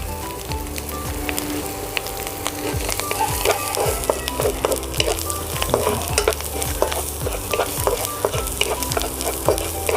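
Salted egg frying with onion and pork belly in a hot pan, a steady loud sizzle throughout with repeated scraping strokes of a spatula in a regular stirring rhythm, no talk.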